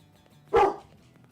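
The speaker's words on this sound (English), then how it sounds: "That dog barks so frickin' loud." A single loud, close dog bark bursts out once over a quiet low background.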